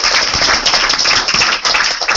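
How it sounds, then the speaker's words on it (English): Loud, dense applause from an audience at a startup pitch event, continuous clapping filling the whole stretch without any talking. "Round of applause."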